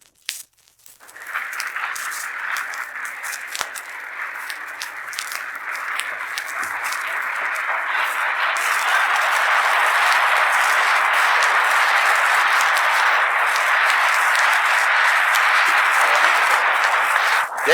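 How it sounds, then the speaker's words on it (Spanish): A large crowd at a 1957 Mexican governor's inauguration ceremony greets an arriving official with steady, broad applause that swells gradually and holds at full strength, slightly distant and hissy in quality. "El aplauso que saludó su presencia fue este."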